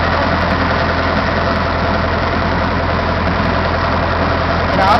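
Boat engine running at a steady idle-like drone, a low, constant rumble close by with no change in pace, no talking.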